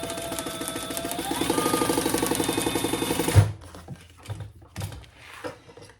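A sewing machine steadily stitches lining pieces together for a triple sling bag, a continuous mechanical whir for about three seconds that stops abruptly, followed by soft handling clatter and a few brief knocks.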